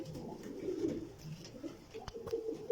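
A pair of red Rahma pigeons, a cock and a hen, coo softly and repeatedly close by, with low throaty phrases rising and falling throughout, and no talk over them.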